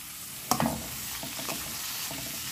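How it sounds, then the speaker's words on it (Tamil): Chopped carrots and leeks frying in a pan for vegetable rava upma, a sharp clatter as they go in, then a continuous close sizzle with light stirring scrapes. "இப்போ இதுக்கு நான் கட் பண்ணி வச்ச கேரட்டையும் லீக்ஸையும் ஆட் பண்ணிக்கிறேன்"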